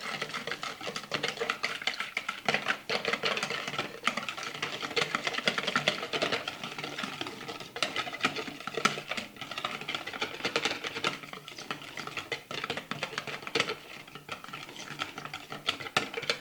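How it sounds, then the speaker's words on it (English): Salad dressing with mayonnaise stirred vigorously in a bowl, a continuous close scraping and swishing that carries on steadily without pause. "I'm going to give this a really good stir."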